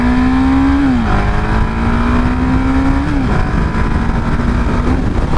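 A 2017 KTM 690 Duke single-cylinder motorcycle pulls hard through first, second and third gears, its loud close engine note climbing steadily then dropping at each of two quick shifts amid heavy wind rush.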